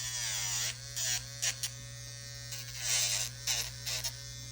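Electric nail drill whirring as it files acrylic on a fingernail, a close, steady high buzz that rises and dips in short bursts as the bit meets the nail, over a faint low hum.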